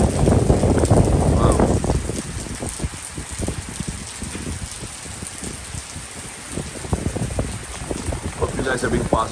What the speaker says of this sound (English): I mean, it's raining a lot